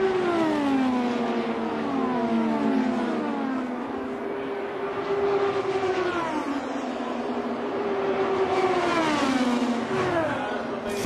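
IndyCar race cars at the 2018 Indianapolis 500 scream past one after another, engine pitch sweeping down as each passes, loud and continuous with overlapping whines and no talk.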